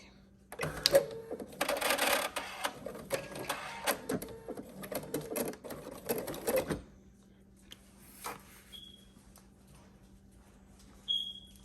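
An embroidery machine stitches a placement line for a passport cover in the hoop, giving a rapid, busy mechanical clatter for several seconds before falling quiet, followed by faint isolated clicks and a brief high beep.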